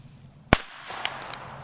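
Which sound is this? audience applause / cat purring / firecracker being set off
firecracker being set off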